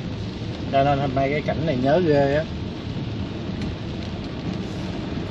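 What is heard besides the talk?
heavy rain and thunder in Saigon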